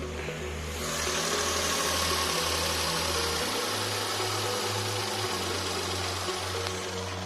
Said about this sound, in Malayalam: എൻജിൻ ഒന്ന് സ്റ്റാർട്ട് ചെയ്തേക്കാം.